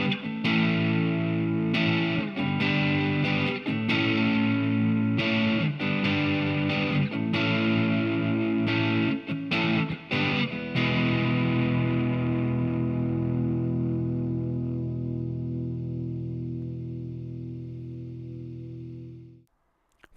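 Distorted electric guitar through a distortion pedal set to about a quarter, tone about a third, strums a series of heavy chords in rhythm, then lets the last chord ring out and slowly fade to silence.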